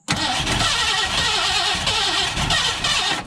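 A 1968 Ford F100 pickup engine cranks and catches, running loud and steady up close for a few seconds with a rough, uneven idle and no talking.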